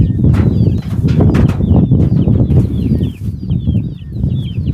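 Hens cluck and murmur close by in a steady low chorus, with scattered higher chirps from small birds in the background.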